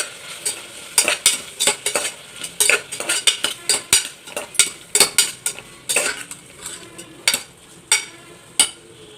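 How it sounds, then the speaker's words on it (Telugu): Onions and tomato pieces sautéing in a pan for methi pulao, with a spoon stirring and scraping in frequent sharp clinks over a steady soft sizzle, close and fairly loud throughout. "కాస్త వేగాక టమాటా ముక్కను కూడా వేసుకోవాలి వీటన్నిటిని కాస్త మగ్గనిద్దాం"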